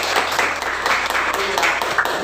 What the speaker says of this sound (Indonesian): Tepuk tangan untuk Eza.